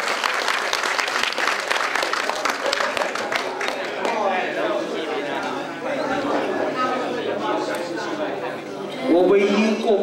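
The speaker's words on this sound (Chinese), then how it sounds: "来掌声响起来" An audience at a teacher's retirement celebration breaks into sustained applause, dense clapping that thins out toward the end as voices and chatter rise through the room.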